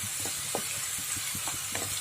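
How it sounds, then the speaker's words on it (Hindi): Carrots frying in olive oil in a pan give a steady, close sizzle and hiss throughout, with soft stirring scrapes and pops. No one speaks. "पैन लेकर मैंने इसमें करीब 4 to 5 स्पून ऑलिव ऑयल डाल के मैंने इसमें कैरेट डाल के कैरेट को मैं अच्छी तरह फ्राई कर रही हूँ"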